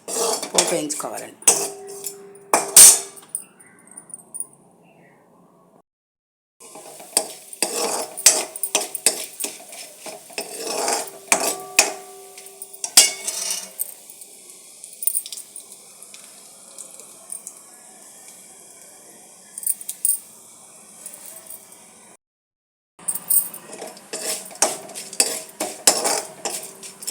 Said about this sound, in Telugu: పోపు వేయించుకోవాలండి.